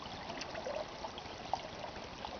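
A small stream flows along a grassy shore, with patches of snow on a nearby island, giving a steady soft wash of water with a few faint trickling plops.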